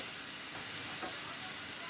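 Soft, steady sizzling hiss of food frying in a pan, faint and continuous throughout.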